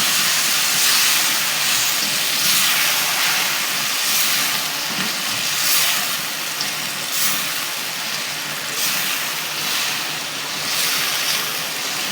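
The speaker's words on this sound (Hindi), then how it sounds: "अब हम इसे अपना चिकन सारा इसमें मिक्स कर देते हैं, और एक अच्छा सा स्टर देते हैं" Chicken is stirred into honey garlic sauce in a hot pan, giving a loud, steady sizzling hiss with soft rises and falls as the pieces are moved, and no voices.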